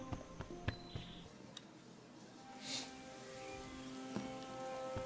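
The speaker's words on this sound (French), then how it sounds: "De la pluie." Soft rain patters in the PS5 adventure game Joe Wander, with faint scattered drops and light ticks under quiet sustained background tones.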